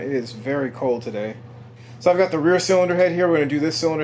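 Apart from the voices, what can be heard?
None of the usual background noises is heard.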